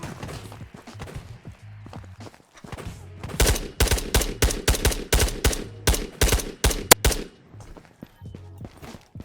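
Gunfire in the video game Ghosts of Tabor: a rapid burst of loud, sharp shots in an uneven string, preceded by quieter footsteps and movement, with no talking.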